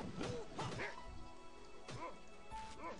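Hungry stray dogs are attacked in the online game Metin2, with yelps, barks and whacking impact hits in bursts at moderate level and a faint background tone.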